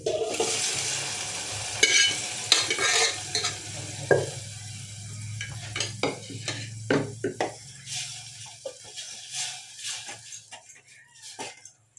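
Boiled leafy greens sizzle and are stirred in a pan, with repeated scraping and clinking strokes over a steady frying hiss, close by.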